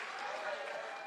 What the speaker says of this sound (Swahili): Akimpigie huo mrembo makofi.